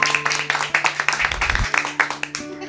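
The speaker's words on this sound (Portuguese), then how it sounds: "dá uma salva de palmas pra Jesus" A small group claps in a quick, uneven rhythm of distinct, close handclaps for Jesus, with a voice speaking over the applause.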